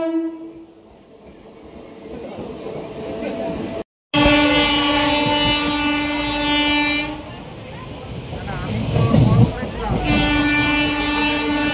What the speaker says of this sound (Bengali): 6টার আগে ট্রেনটা ঢুকে গেছে